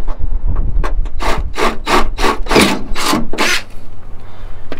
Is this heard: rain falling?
no